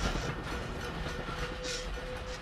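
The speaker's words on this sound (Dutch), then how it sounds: "En die treintjes gaan hier wel mooi rond" Little trains run along their tracks in the video game Dishonored, a continuous rumbling clatter of rail cars with a faint whistle-like tone, steady and fairly close, with no voices.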